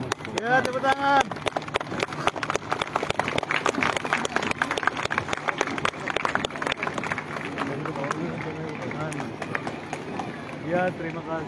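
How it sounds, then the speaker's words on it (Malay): An outdoor crowd at an Indonesian Independence Day (HUT RI 79) event in Siabu district claps in a dense, continuous patter that runs under loud voices and shouting. "Ya, tepuk tangan."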